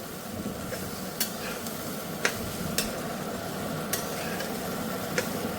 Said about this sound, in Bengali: আর 1 চামচ ছোলা মশলা। এটা দিয়ে একটু কষে নেব।